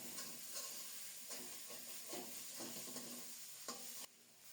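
Bean seed dal with bata fish cooking in a pot, giving a soft continuous sizzle and hiss with rhythmic stirring scrapes and light clinks, fairly faint, ending abruptly.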